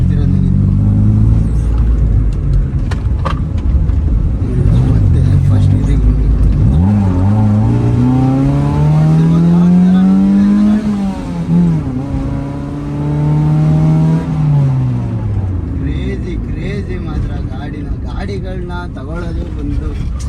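A tuned, remapped Ferrari on Bengaluru streets accelerates hard in second gear, its engine note climbing loudly through the revs and then easing off, close by, while someone talks throughout.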